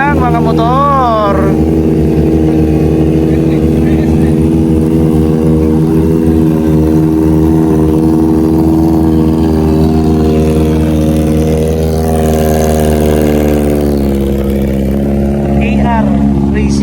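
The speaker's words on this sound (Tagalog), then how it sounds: "Umubong na ang mga motor." Several big bikes, Kawasaki Ninjas and Bajaj Dominars gathered for a group invitational ride, rumble steadily at idle with deep layered engine tones and a few rising revs, loud and continuous throughout, with faint voices in the background.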